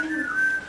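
Someone whistles a short, clear sliding tone that rises slightly and holds, soft and close, with no other sounds around it.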